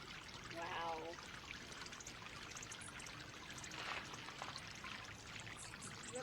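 An outdoor water fountain pours and trickles in a steady, faint wash at sunset in Palm Springs, with a voice briefly heard over it.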